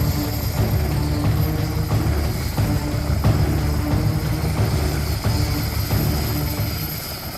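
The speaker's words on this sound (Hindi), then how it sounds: "एक खुले घास के मैदान में आईडीएफ के 2 हेलीकॉप्टर उतर रहे हैं।" Two IDF military helicopters set down in an open grass field. A loud, steady rotor and engine roar fills the air with faint rhythmic beating and no voices.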